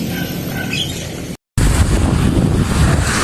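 Sea waves breaking on the shore on a rough morning at a net-fishing spot, heard as a steady broadband wash with wind buffeting the microphone, briefly cut by a short dropout before the surf resumes.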